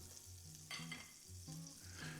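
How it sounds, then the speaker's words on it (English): Oil and butter sizzle gently in a frying pan with a crumpet ring set in it, a steady soft crackle that runs the whole time beneath low, even tonal sounds. "It should start gently sizzling."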